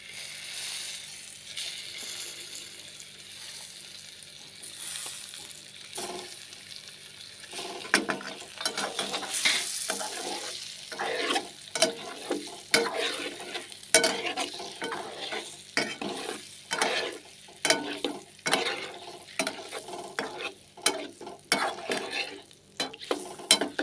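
Eggs fry and get stirred in a pan for egg biryani, starting with a soft steady sizzle, then a spoon or spatula scrapes and clatters against the pan in quick irregular strokes, close and without talking.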